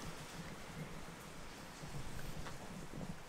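Steady afternoon rain falls as a constant soft hiss with faint patter, fairly quiet and even throughout, with no voices.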